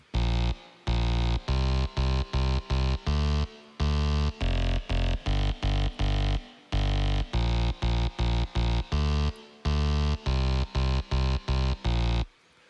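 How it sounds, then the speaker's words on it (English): Bass synth loop from Splice in an EDM build-up, deep pulsing notes chopped into a tight repeating rhythm with brief gaps, loud and dry with no voices. "the first element of this build-up is a bass synth loop that I found from Splice"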